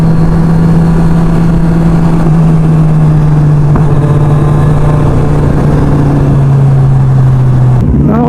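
Kawasaki big bike motorcycles on the road, with a steady, loud engine drone that holds a near-constant pitch for several seconds before a brief sharp dip and rise near the end.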